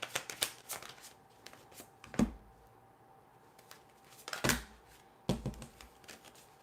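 A deck of tarot cards is shuffled up close in quick riffling bursts, with sharper snaps and slaps of cards at several points and quiet handling between them.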